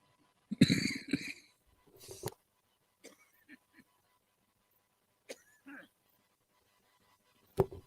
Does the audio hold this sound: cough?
yes